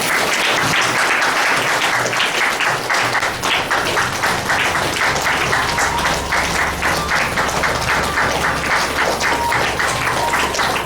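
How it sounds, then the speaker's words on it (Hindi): Steady, loud applause from an audience welcoming a speaker to a spiritual class, a dense, even clapping that continues unbroken throughout with little talk. "तालियां बजाते रहेंगे।"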